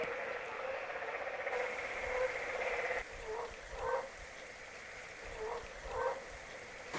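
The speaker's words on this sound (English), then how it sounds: "These frogs up by the Emerald Pool are deafening." A dense chorus of frogs croaks steadily outdoors near the Emerald Pool in an American West national park, loud and continuous, with a few stronger calls rising out of the constant background.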